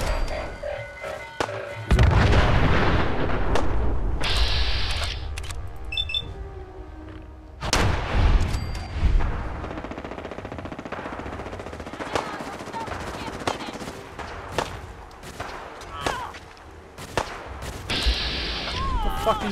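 In Fallout 4, bursts of rapid weapon gunfire and sharp explosions crack out loud and close, in scattered volleys between quieter moments, while a person speaks now and then.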